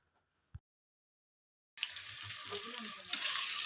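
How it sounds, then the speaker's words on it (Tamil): After near silence and one soft knock, three large lengthwise-sliced onions hit hot oil for mutton gravy, setting off a sudden loud, hissing sizzle that continues steadily and grows slightly stronger. "எண்ணெய் காஞ்ச உடனே 3 பெரிய சைஸ் வெங்காயம் நீளமாக கட் பண்ணி வச்சுக்கிறேன், அது சேர்த்துக்கலாம்."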